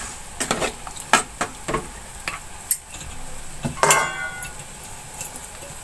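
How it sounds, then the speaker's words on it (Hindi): Water poured into a pot of cooking aloo gosht, with a steady sizzle and bubbling and a few stirring clicks and knocks, close and fairly loud, no voices. "अब इसमें मैं 1 गिलास पानी का शामिल कर लूंगी।"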